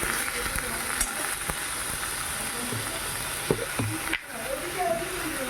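Boiled elephant foot yam and jackfruit seeds fry in mustard paste with salt and turmeric, giving a constant hissing sizzle broken by occasional scrapes and knocks of a stirring spoon, with a brief dip midway.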